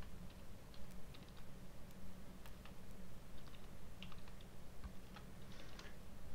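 Quiet, irregular clicking of keys on a computer keyboard, faint and close, over a steady background hiss with no voices.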